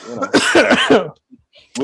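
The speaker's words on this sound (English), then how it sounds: "As I'm sitting here coughing and wheezing like an old man" A man coughs hard in a tight cluster of raspy, wheezy bursts, close and loud, then a short pause before another harsh cough begins.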